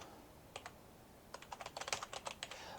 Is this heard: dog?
no